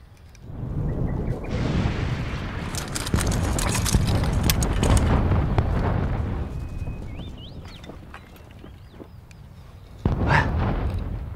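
Distant artillery fire rolls in as heavy, rumbling booms in a night-time wartime setting, with a sustained stretch of thudding blasts, a fading lull, then another sharp boom.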